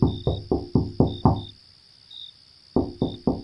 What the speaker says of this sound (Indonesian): tiba-tiba terdengar suara ketukan pintu